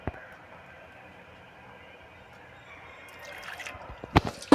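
Water loosened in a mixer jar is poured into a simmering kumbalanga (ash gourd) coconut curry, a soft drip and trickle building near the end into brief splashy pouring, with no talk.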